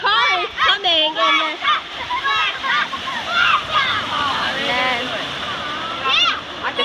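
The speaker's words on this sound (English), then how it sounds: "the car did splash" A car splashes through a flooded street, a broad wash of water rising beneath loud, rhythmic chanting and shouting from children nearby.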